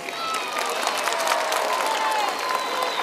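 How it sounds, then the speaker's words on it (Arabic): Audience applause and cheering at a show honoring people with special needs at Riad El Feth, Algiers, a dense steady roar of clapping with crowd noise throughout. "أعطوا لي تصفيق عليهم"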